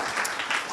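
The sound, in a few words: audience applause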